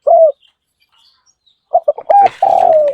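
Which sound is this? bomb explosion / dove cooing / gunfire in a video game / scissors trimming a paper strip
dove cooing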